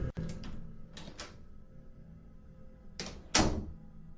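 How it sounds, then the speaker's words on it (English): A bathroom door opens in a quiet building: a sharp knock-like thud, a few soft creaks and handle rattles, then two louder closer clunks near the end, with no voices. "and the bathroom door opens."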